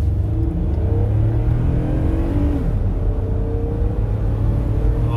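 A 2008 Toyota Highlander 4WD being driven after a transmission fluid change, its engine a loud, steady drone inside the cabin with a rising and falling pitch as it accelerates, and no talk.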